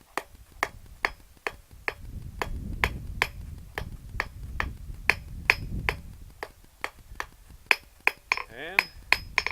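A hammer forges a short taper on hot steel for a compass, striking in a steady run of sharp ringing metallic blows, about two per second, with a low roar from the forge fire underneath.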